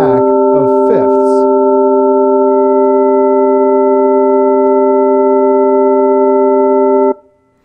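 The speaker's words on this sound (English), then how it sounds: "what we are building is a series of 3:2 ratios that sound like a series or a stack of fifths" A stack of pure sine tones tuned in perfect fifths at 3:2 ratios sounds together as one steady, bright chord for about seven seconds, after a few short gliding tones at the start, then cuts off abruptly.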